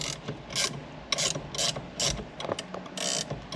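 A ratchet wrench clicks in quick bursts while working on the steering column of a 1979 Chevy Malibu, several short close-up ratcheting runs separated by brief pauses.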